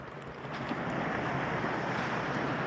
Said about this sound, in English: listen to the sounds of the waves clashing